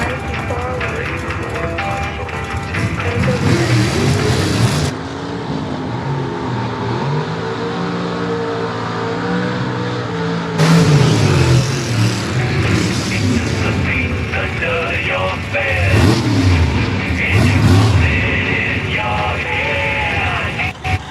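A 1958 Chevrolet funny car races down the drag strip at Great Lakes Dragaway, its engine roaring loudly and continuously with surging revs and a brief cutoff in the middle, under a commentator's voice.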